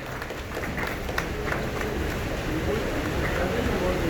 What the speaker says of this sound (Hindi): जरा तालियां बजा दे, भरपूर तालियां